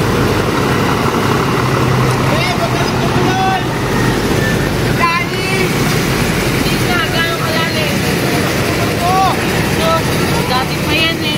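A jeepney engine rumbles steadily as it drives through deep floodwater on Aguinaldo Highway in Bacoor, with water sloshing around it and people talking over the continuous loud drone.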